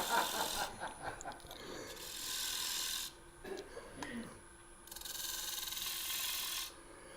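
A 3/8 spindle gouge cuts thin wood spinning on a lathe, giving two long, steady rasping passes separated by a brief pause with lighter scraping, set against a faint constant motor hum.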